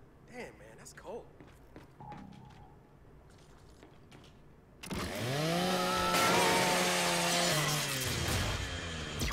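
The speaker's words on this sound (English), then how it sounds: "Just use the Lancer's chainsaw" The Lancer's chainsaw bayonet in the Gears 5 video game revs and grinds loudly through a custodial robot unit, a long roaring cut that follows quieter speech and in-game sounds.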